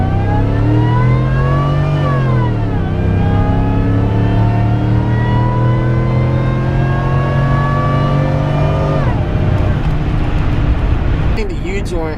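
A 2005 Chevy Tahoe Joe Gibbs Special Edition accelerates out of a neighborhood, its loud engine rising in pitch through one gear, dropping at a shift, then climbing steadily again before easing off, heard from inside the vehicle.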